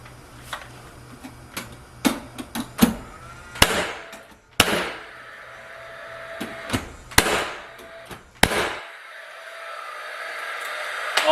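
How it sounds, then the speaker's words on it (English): Nails are hammered into a wooden board in a workshop: a series of sharp, irregular impacts, some in quick clusters, others spaced apart, fairly close over a faint background hum. "So I'm going to nail it up."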